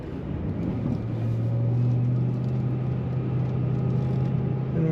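A supercharged 2007 Ford Mustang Saleen S281 coupe pulling in second gear through a roundabout, a steady low engine drone with a rising tonal whine, heard from inside the cabin with no talking.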